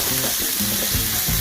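Corn kernels shaved from about six ears fry in a pan of bacon grease, making a dense, close sizzle with a few scraping stirs.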